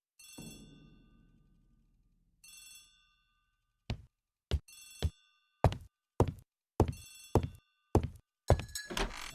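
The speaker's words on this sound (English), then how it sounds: "The telephone in the hall is ringing." A telephone in a house hall rings in short bell bursts, close and clear, with repeated thuds or knocks falling between the later rings and no one speaking.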